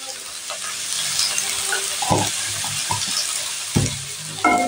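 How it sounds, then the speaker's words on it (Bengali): Cowpeas and sheem beans with turmeric and salt frying in a pan over low heat, a steady close sizzle broken by several scraping stirs of a spoon. "এবার এটাকে খুব ভালো করে কম আঁচে নাড়াচাড়া করে এটাকে ঢাকনা দিয়ে ঢেকে দিতে হবে"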